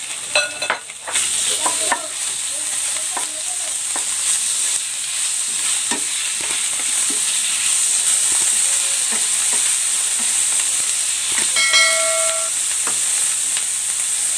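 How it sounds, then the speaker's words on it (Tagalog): Pork sautés with onion in a hot pan, giving a close, steady sizzle and hiss broken by stirring scrapes and light utensil clinks, with no talking. "Gigisa ko na itong pork."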